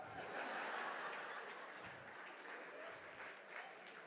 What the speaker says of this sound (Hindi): ये भाईंदर वाली ताली बजा रहे हैं